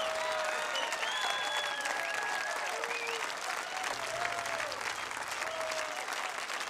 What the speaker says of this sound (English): Faut les applaudir bien fort.